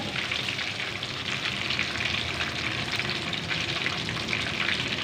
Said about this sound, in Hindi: यहाँ पे जी देखिए माशाल्लाह से चिकन हमारा अच्छे से फ्राई हो चुका है।